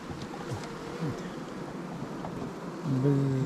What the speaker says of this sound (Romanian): Uite ce de albine frumoase.